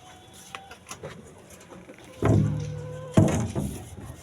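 Several pigeons kept in a covered coop give low cooing calls, punctuated by two loud bursts of rustling and thumping, alongside a few faint higher-pitched chirps.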